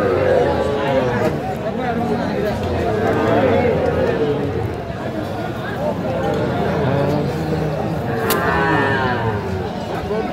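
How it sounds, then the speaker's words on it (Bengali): A Sahiwal bull calf moos repeatedly amid the bustle of a crowded cattle market, its lowing calls rising over constant nearby chatter and bargaining voices. "ষাঁড় বাচ্চা"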